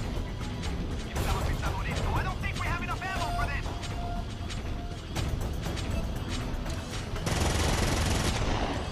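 Rapid gunfire and crashing blasts from the Earth Defense Force: Insect Armageddon video game fill the clip with dense bursts. Voices talk over the shooting throughout.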